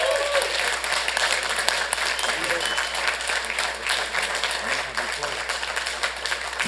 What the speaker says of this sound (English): please join me, community, with a loud round of applause